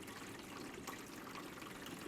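Room-temperature water runs steadily into a film processing tank during rinsing in a cine film lab, a close, even hiss without pauses.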